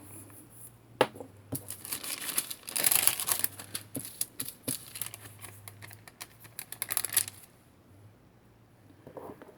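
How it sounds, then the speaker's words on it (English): A piece of paper is rubbed over butted polymer clay edges to burnish and seal them, making close, dry crinkling and scratchy rustling with scattered sharp ticks, heard alone and fading to quiet near the end. "just burnish them a little bit with a piece of paper, just to seal those edges together"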